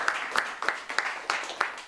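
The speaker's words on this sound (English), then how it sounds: "let's give our guests a round of applause" A small audience gives panel guests a brief round of applause, heard as a handful of distinct, fairly sparse claps spaced in a loose rhythm at moderate volume.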